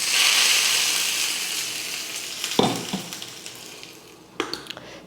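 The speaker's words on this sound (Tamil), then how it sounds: "அடுப்பை ஆஃப் பண்ணி வச்சு இப்போ சட்னியில் ஊற்றிடலாம்" Hot oil tempering with mustard seeds, urad dal and curry leaves hisses and sizzles loudly as it is poured into chutney. A bright crackle fades over several seconds, followed by a few soft clinks and spoon scrapes.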